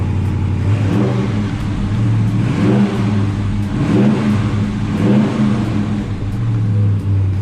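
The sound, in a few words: Dodge Challenger Hemi engine revving, muffler exhaust sound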